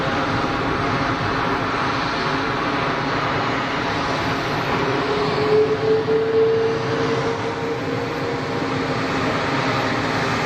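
An Air France Airbus A220 airliner gives off a steady broadband jet roar of medium loudness, with a brief tonal whine surfacing midway and no voices.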